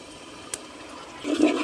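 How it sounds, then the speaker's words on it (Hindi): Mutton stock (yakhni) is poured into spiced masala in a pot, a faint watery trickle that swells into a louder splashing pour near the end, with no talk. "हाफ़ कप मैंने इसके अंदर अभी यखनी डाली है।"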